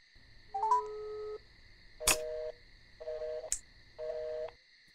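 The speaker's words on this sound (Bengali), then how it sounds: "তুমি কাকে ফোন দিচ্ছ?" A telephone is dialed, a run of short electronic key-press tones and beeps coming in separate bursts over a faint steady background hum, close and fairly quiet, with no talking.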